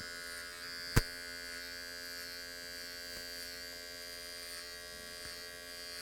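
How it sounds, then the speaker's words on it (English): An electric hair clipper running steadily while finishing a close skin fade, a constant buzzing drone with one sharp click near the start. "So we're going to finish up the fade with this clipper all the way close."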